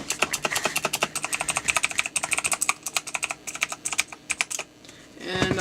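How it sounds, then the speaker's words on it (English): Keys clatter on a 2014 Razer BlackWidow Ultimate mechanical keyboard, rapid crisp clicks typed close up in quick bursts, easing to a pause before a short rustling noise at the end. "let's click the keys again for you so you can hear them"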